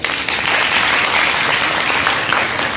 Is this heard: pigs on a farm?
no